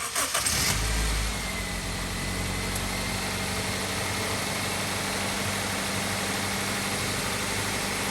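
A Honda CR-V engine, freshly fitted with new spark plugs and an oil change, starts with a brief crank and then settles into a smooth, steady idle close by, with no voices.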